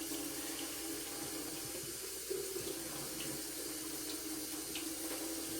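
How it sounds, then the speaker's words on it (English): Water runs steadily out of a Berkey filter as it is flushed from the inside out, a soft continuous trickling stream that stays faint and even throughout. "push it together, you'll start to see the water come out from the inside"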